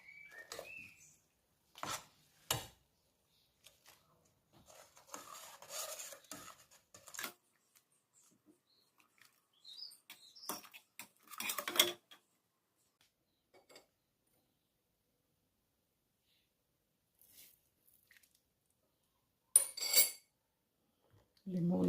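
A metal spoon scraping and clinking against a pot while sugar is stirred into a basil compote, a few intermittent bursts of stirring separated by quiet gaps.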